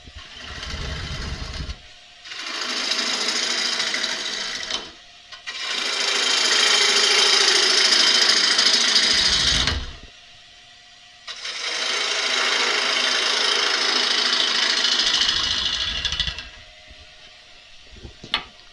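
A bowl gouge with a 45 degree bevel cuts inside a wooden bowl spinning on a lathe, giving several long, close, hissing, scraping passes separated by pauses filled with the lathe's low hum.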